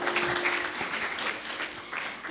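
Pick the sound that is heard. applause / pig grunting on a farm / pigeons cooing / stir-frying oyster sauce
applause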